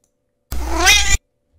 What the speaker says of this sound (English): Cat yell.